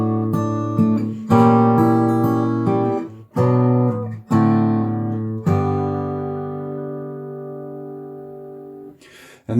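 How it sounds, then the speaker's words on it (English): Fingerstyle acoustic guitar plays a passage from a song, adding optional notes: ringing chords and picked notes with sustained decays, loud and close, with no voice. "So if I play measures 14 and 15 with the optional notes,"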